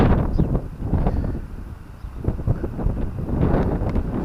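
Outdoor wind on the Norfolk coast near a lighthouse, a steady low rumbling buffet across the microphone with gusty swells, loud and continuous, no voices.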